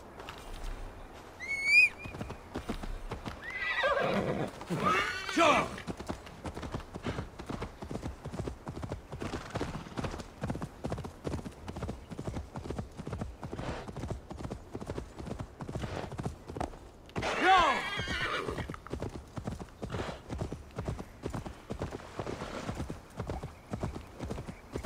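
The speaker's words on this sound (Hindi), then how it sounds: "अब अपने प्यारे घोड़े को बुलाया जाए।" A horse in the video game Assassin's Creed Valhalla clip-clops in a steady galloping rhythm throughout, with a few louder neighs and whinnies breaking through near the start and again later.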